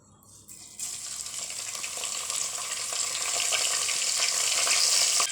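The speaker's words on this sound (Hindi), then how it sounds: "हमने 2 बड़े चम्मच घी के डाले हैं इसमें देगची में। और अब इसके बाद इसमें ये बघार के लिए डाल रहे हैं कड़ी पत्ता, ज़ीरा," Curry leaves, cumin, mustard seeds and fennel dropped into hot ghee in a pot, a sudden loud crackling sizzle that builds and keeps spitting steadily after a quiet start.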